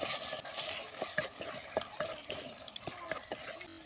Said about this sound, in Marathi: तर सर्व भाज्या आता आपण टाकून घेऊया. त्या भाज्या आपण परतून घेऊया.